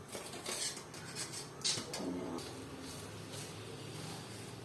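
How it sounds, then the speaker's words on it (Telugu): A kadai (wok) set down on a stove with a few metallic clanks of dishes and utensils over a steady low kitchen hum, brief and close. "ఇప్పుడు మనం స్టవ్ మీద కడాయి పెట్టుకొని ఇంకా పేస్ట్ రెడీ చేస్తాం"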